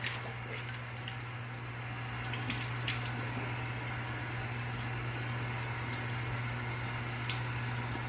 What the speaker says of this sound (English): And I'm rinsing with cold water.